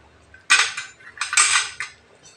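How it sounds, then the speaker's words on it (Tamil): A metal spoon stirs a boiling pot of South Indian curry on the stove, giving two bright bursts of scraping and clinking against the pot with a quiet pause between. "அடிக்கடி கிளறி விட்டுக்கிட்டே இருக்கலாம்"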